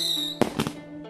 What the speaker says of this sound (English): creating the first fireworks.